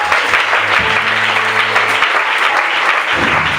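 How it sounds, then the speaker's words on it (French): A church congregation breaks into loud, sustained applause and cheering for Richard during a lively worship service, the clapping dense and steady throughout with faint voices mixed in. "Acclamons pour Richard."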